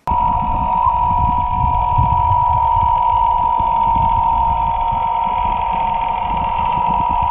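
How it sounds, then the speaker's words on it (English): Underwater engine noise from a manatee ecotour boat in Crystal River, Florida: a steady, loud mechanical drone with a sustained whine, continuous and unbroken, with no voices. "Boat noise from falsely proclaimed manatee ecotour operators fills the manatee's world"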